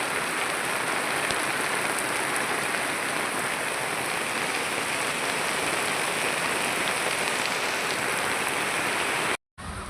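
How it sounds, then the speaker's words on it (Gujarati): Steady, dense rain hisses continuously, a broad even wash of drops on surfaces that cuts off abruptly near the end. "વરસાદ હજુ સુધી બંધ થયો નહીં"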